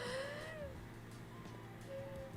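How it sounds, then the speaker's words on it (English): A thin, wheezy whistle from bronchial tubes while breathing in, heard as two quiet high tones, one at the start and another near the end, over a faint background with no talking. "Something in my bronchial tubes made a whistle when I breathed in."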